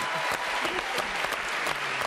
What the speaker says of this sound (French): Encore quelques applaudissements pour elle,